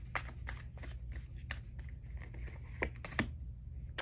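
A deck of tarot cards is shuffled close by, giving a run of crisp riffling snaps and papery flutters at an uneven pace, with no talking.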